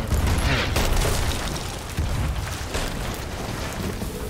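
Ship cannon fire in a naval combat video game, heavy booming blasts with rumbling low-end impacts and a dense, noisy wash of battle sound, loud and close throughout.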